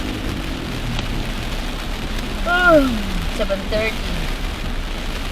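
Heavy rain pounds a car driving through Davao in Mindanao, a constant dense hiss with a voice speaking briefly over it.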